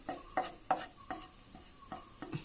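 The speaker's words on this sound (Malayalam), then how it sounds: "ഞാനിപ്പോൾ ഇതിലേക്ക് രണ്ട് മുട്ടയാണ് ഒഴിച്ചു കൊടുക്കുന്നത്" Eggs poured into a hot pan, giving a series of short, sharp scrapes and light sizzling bursts in an irregular rhythm, close and fairly quiet with no voices.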